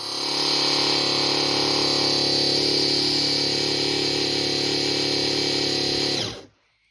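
A loud, continuous whirring hiss of a faulty Graco Ultra QuickShot paint sprayer spraying water and expelling air, steady for several seconds before cutting off abruptly.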